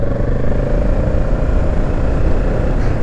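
A 2020 Kawasaki Z650 motorcycle's Euro 5 engine drones steadily and loudly at close range, a continuous low, throbbing hum throughout.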